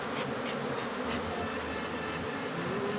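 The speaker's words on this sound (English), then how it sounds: "How's them bees, huh?" A swarm of Africanized killer bees buzzes steadily and densely throughout, a continuous close drone with no speech, heard during a hive removal.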